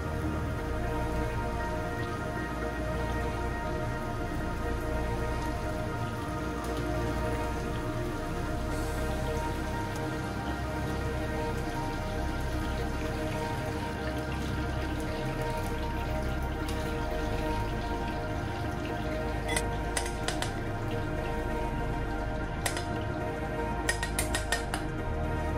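Popcorn chicken deep frying in hot oil for a Taiwanese-style recipe, a steady dense crackle and bubbling that runs the whole way through with no talk, plus a few light clinks near the end.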